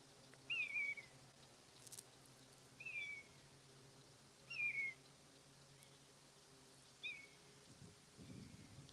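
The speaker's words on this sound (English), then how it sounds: "They're the biggest bird of prey around here." A high, thin bird call with a downward slur, repeated four times at irregular intervals over a quiet outdoor background, moderately distant.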